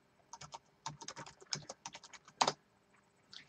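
Typing on a computer keyboard, quick bursts of soft close key clicks with one louder keystroke near the end, otherwise quiet.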